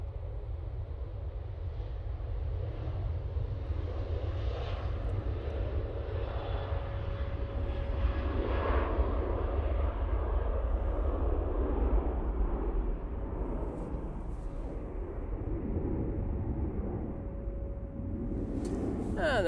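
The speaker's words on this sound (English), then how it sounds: "And there goes the Ryanair 737-800." Ryanair Boeing 737-800 jet taking off from Manchester Airport, a steady loud engine roar with deep rumble and a faint whining tone, sustained throughout and slowly fading toward the end.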